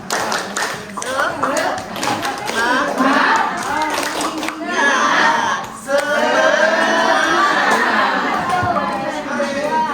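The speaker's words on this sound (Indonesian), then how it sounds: "Tepuk semangat." A group, likely at a teachers' training session, does the rhythmic 'tepuk semangat' clap, bursts of patterned hand claps mixed with chanting voices and a leader's spoken cues, fairly close and loud.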